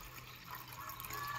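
Water mixed with pigeon medicine is poured into a container, a faint, continuous trickling splash that stays soft and even over a short moment.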